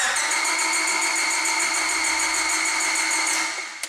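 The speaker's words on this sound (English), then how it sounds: "And crank the engine over." A car engine cranks over steadily with the distributor connector unplugged for a relative compression test, a fast, even mechanical whirring for several seconds, then cuts off at the end.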